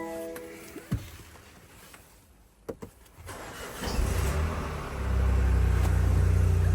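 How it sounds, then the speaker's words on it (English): A car with a 1.5 engine cranks and starts after a few clicks and a brief lull, then settles into a steady, loud, close idle rumble that carries on alone. "So let's just get this car running now."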